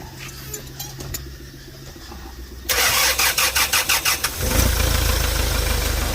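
A Hyundai Porter with a D4CB CRDi diesel engine is started: a quiet stretch of low background hum, then a loud close cranking burst with rapid rhythmic pulses, catching into a steady, rough diesel idle.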